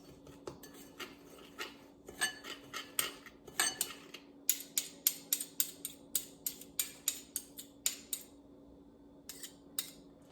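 Ginger, onion and sesame oil dipping sauce being stirred, a rapid series of sharp clinks of a utensil against a bowl, close and fairly loud with brief pauses, no talk.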